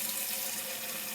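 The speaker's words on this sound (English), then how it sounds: "I'm going to fill up a pan with water" Tap water gushes steadily from a faucet into a pan, a loud, close, unbroken rush of filling water with no voices.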